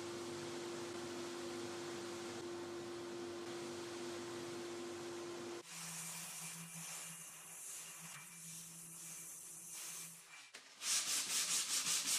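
Reclaimed wood for shelf legs being sanded, a steady close rubbing hiss that shifts to a different, lighter texture midway, then ends with a few quick, rhythmic strokes.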